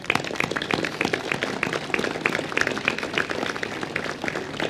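A crowd claps for a new police commissioner at an outdoor inauguration of Menton's seaside promenade on 14 July, with sparse, individually distinct handclaps that are moderately loud and keep up at a steady rhythm.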